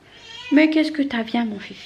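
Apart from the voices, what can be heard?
cat meowing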